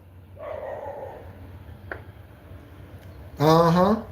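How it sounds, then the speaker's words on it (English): A dog gives a short bark early, then a louder, harmonic bark or yelp near the end. The sounds are close and clear against a low background, with no voices over them. "Confirmation dog barks."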